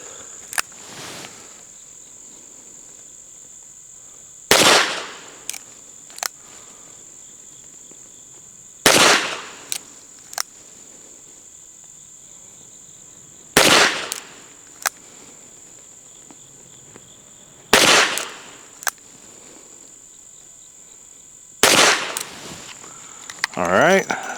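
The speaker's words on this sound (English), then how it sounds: "we're going to do 5 shots, single action at the top B8 repair center" Taurus 605 Defender revolver fired at a range, with sharp loud shots in spaced groups of about two or three every few seconds, while a constant insect drone continues in the background.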